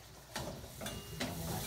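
Food fries in a pan with garlic, sizzling as a faint steady hiss broken by a few soft scraping stirs.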